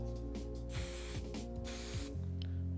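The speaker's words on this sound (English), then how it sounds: "So holding it about 7 or 8 inches away, just spraying it through the top." Control hairspray hisses from a can held several inches from the hair in two short bursts and one longer burst, close and loud, over a steady mechanical hum with no talk.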